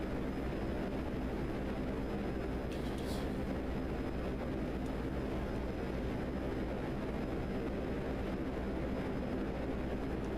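A VTOL aircraft in the game GTA Online gives off a steady, dense engine roar that holds unbroken throughout, with no voices over it.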